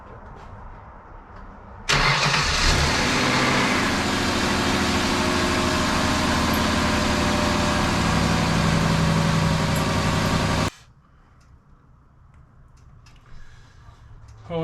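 A Ford Taurus engine cranks and catches, then runs at a loud, steady idle for several seconds before cutting off, with the tires raised off the ground during a repair.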